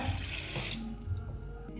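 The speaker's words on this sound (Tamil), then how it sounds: "ஃபஸ்ட்டு ஒரு டம்ளர் தண்ணி எடுத்துட்டுருக்கேன் இப்போ சேர்த்துடுறேன்" Water from a tumbler splashes and gushes into a pot while coriander water is being cooked for biryani, a brief continuous pour close by that fades toward the end, with no talking.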